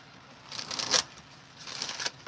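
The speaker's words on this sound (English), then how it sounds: "Hold on, I want to shuffle that one more time." Tarot cards being shuffled by hand in two quick riffling bursts, crisp papery flutters close to the listener with a brief pause between them.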